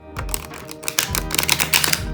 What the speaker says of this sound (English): this one is also pretty easy to riffle shuffle.